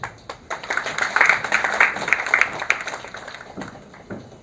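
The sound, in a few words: audience applause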